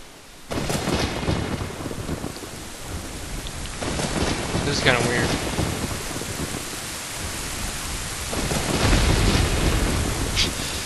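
Thunderstorm in Ocarina of Time, with steady pouring rain and several deep rolling thunder bursts spread through it, loud and close, with brief sharper tones on top and no talk.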